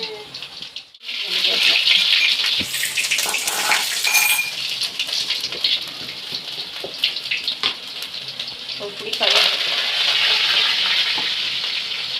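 Mustard seeds frying in a mix of sesame oil and cooking oil, ahead of a crab gravy: a steady, loud hiss and crackle that runs for the whole stretch, with a brief lull near the start and a few scattered pops on top.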